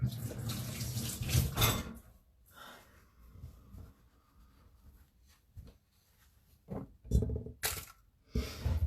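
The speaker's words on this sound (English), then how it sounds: "I'm just going to wash my hands." A kitchen tap runs while hands are washed, with splashing water in uneven bursts that break off into quieter gaps and then resume, heard close and moderately loud.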